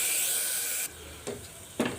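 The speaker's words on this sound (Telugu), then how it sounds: "ఈ టొమాటోస్ ఇవన్నీ కోరేస్తాను నేను" Fresh tomatoes grated by hand for a cluster bean curry, heard as a steady rasping scrape followed by a couple of short, louder scraping strokes.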